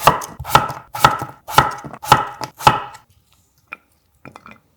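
Two medium peeled potatoes, quartered, being cut into 0.5 cm slices with a knife; six sharp, evenly spaced chops land on a board, followed by a quiet pause and a few faint, scattered clicks.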